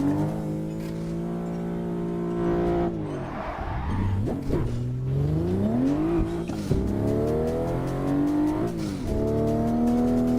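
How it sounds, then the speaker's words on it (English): Racing simulator game car engine drones and shifts pitch throughout, with a burst of tire skid and crash noise in the middle, loud and continuous with no talking. "I crashed the car."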